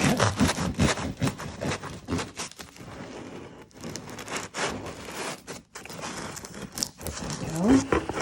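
A knife saws through a crusty chocolate chip sourdough loaf, giving repeated close scratchy rasps and crackles of crust with short pauses between strokes, and a voice speaks briefly.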